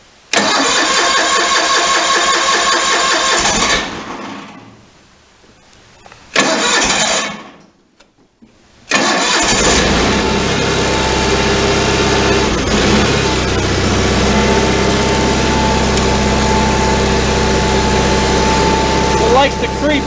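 A riding lawn tractor engine is choked and given some throttle. It cranks loudly, stalls into near silence, cranks again, then catches and settles into a steady, close, loud running drone.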